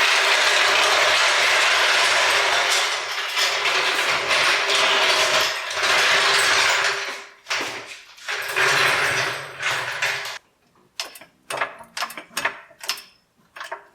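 A ratcheting jack lifts an abandoned 1962 AMC Rambler, starting with a long run of loud, close metallic clicking and grinding, then slowing into separate ratchet clicks in uneven bursts, with no talk.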